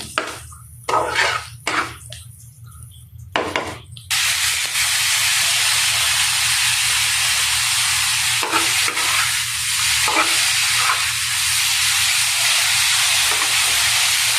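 Potatoes with onion and garlic fry in a pan beside boiled gourd leaves, first a few short stirring scrapes and sizzles, then a loud, continuous close sizzle that carries on steadily.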